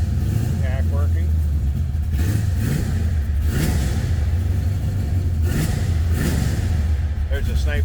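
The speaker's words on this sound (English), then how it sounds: "Let it warm up just a tad here. It was a cold start." A 1970 Chevrolet Nova two-door sedan idles after a cold start, a steady low rumble running close and continuous, with occasional revs and voices faintly over it.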